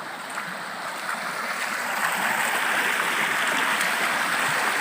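Flowing river water near a stone map marker, a steady broadband rush and hiss that holds constant and grows slightly louder, with no speech over it.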